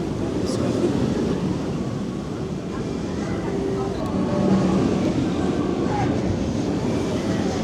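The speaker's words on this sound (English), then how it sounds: "Especially when you see multiple trains all tearing around the track at once." Roller coaster trains at Europa Park theme park tear around the track, producing a loud, continuous rumbling roar mixed with crowd noise and chatter throughout.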